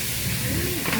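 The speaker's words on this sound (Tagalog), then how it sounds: "Nakakatakot magprito ng isda." Fish frying in hot oil, a steady broadband hiss and sizzle running close and fairly loud through the whole short moment, with a faint voice underneath.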